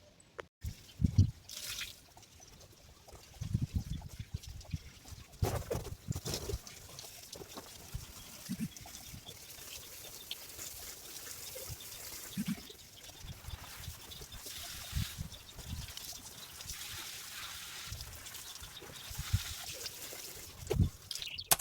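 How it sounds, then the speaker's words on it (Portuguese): Garden hose watering potted plants on a veranda, a soft continuous spray and trickle of water splashing onto leaves and soil, with scattered louder drips and splashes and occasional handling knocks, close by and without talk. "Agora eu vou pegar a borracha pra molhar."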